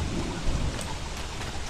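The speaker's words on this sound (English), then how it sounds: "Hopefully it quits raining soon" Rain and rolling thunder from the video game Don't Starve form a dense, steady downpour hiss with a low rumbling swell, loud and uninterrupted.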